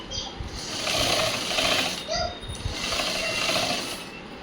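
A sewing machine stitches a blouse seam from the neckline, running in a steady hum with two brief pauses while someone talks over it.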